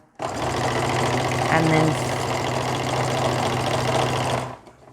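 A sewing machine runs steadily and close while sewing a rolled hem on a maxi skirt, humming for several seconds before stopping, with a voice speaking briefly over it.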